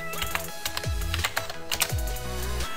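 Computer keyboard typing a Gradle setup command for a Minecraft mod, a quick run of close key clicks over a steady tonal background hum.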